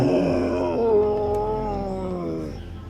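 A human voice imitates a large, deep animal growl in a jungle, producing a drawn-out, throaty, moaning tone that slowly sinks in pitch and fades over a few seconds.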